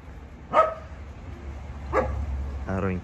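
A German shepherd gives a few short, separated barks and yelps at moderate distance, with low rumbling noise between them and a final drawn-out whining bark.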